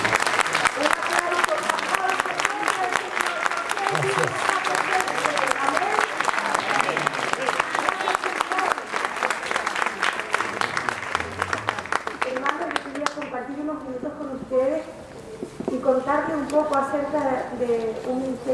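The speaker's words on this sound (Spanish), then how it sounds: "Un aplauso al Señor." A church congregation applauds during a Spanish-language worship service, a long, dense roll of clapping from a crowd with a voice speaking over it, fading toward the end as the speaking voice continues.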